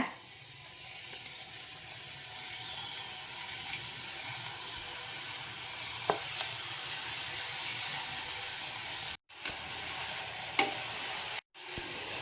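Wheat-flour diamond-cut chips fry in hot refined oil, giving a steady, close fizzing sizzle that continues throughout with occasional brief pops and clicks.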